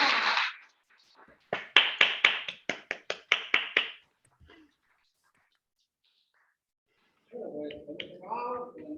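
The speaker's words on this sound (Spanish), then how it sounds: "un aplauso para nosotros" A short burst of clapping from a small group at the end of an online session, about a dozen quick claps in a row, followed by silence and then voices talking.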